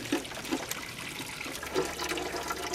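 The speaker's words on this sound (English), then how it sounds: "I'm just going to start putting water through the system until it comes out relatively clean" Water running through the heater core hose of a 1994 Chevy Caprice wagon with a 350 V8, a steady gurgling trickle with a few soft splashes, moderately faint.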